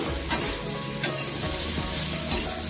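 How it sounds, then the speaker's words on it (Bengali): Steady sizzling of ridge gourd frying in a pan, with a few scraping stirs of a spatula breaking through, close and continuous, no voices. "কথা বলতে বলতে ঝিঙেও ভাজা হয়ে গেল"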